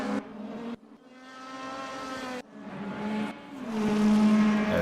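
Race cars speeding around a track during a race that includes an Audi and a BMW, with loud engines whining and shifting pitch as they pass close by, broken by sharp cuts, and no talking.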